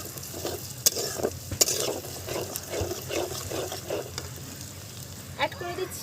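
Whole garam masala and chopped ginger sizzle in hot oil while being stirred with a spatula for a Kashmiri aloo dum, a steady close crackle broken by a few sharp scraping clicks.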